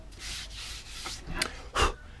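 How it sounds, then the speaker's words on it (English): Draper 240 V oscillating belt and spindle sander working a piece of wood, quiet rubbing strokes in short bursts, ending with two sharper scraping passes. "Lovely bit of sanding."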